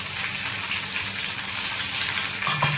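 Curry leaves and green chillies sizzle and crackle in hot oil, a bright, dense frying hiss heard up close and alone.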